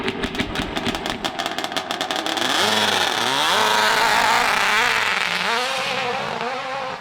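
A 1000cc two-stroke motorcycle engine pops and crackles at low revs, then revs up into a loud, sustained wailing drone that rises and falls, heard alone without talk.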